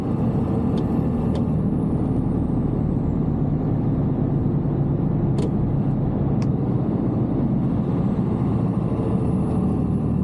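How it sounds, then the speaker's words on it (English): An HGV lorry cab rolls along slowing with the exhaust brake engaged, a loud steady low engine drone and rumble throughout, with a few brief sharp clicks and hisses. "Let's get that exhaust braking on."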